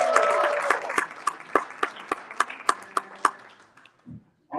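An audience applauds a woman named Brenda Ring Wood at a talk event, starting as a brief burst of group clapping that thins into a dozen or so distinct, spaced claps before fading out.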